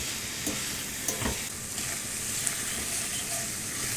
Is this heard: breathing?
no